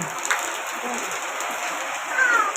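Steady evening rain pours down in a continuous hiss, close and even, with a faint bird call near the end.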